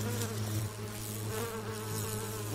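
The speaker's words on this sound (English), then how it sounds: "When you hear a bee buzzing along, visiting a flower, you're hearing the movement of air made by the fluttering of its wings" A bee buzzing in flight with its wings fluttering, a continuous close droning hum that wavers slightly in pitch and loudness, heard alone.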